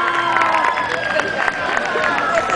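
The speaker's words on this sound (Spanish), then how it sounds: "Despidámoslas con un fuerte aplauso" A cosplay contest crowd at a concert event in Guatemala cheers and applauds continuously, a dense wash of clapping, shouts and voices filling the space, steady and fairly loud throughout.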